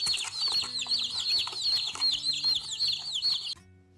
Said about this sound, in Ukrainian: І ось так воно пікає, каже пі-пі-пі.